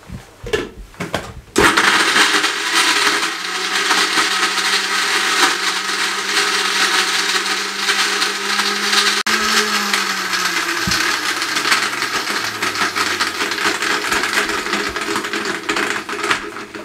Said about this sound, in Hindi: और अच्छे तरीके से ग्राइंड कर लें।